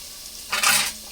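A brief hiss of frying rises midway as the masala for a village-style fish curry cooks in oil.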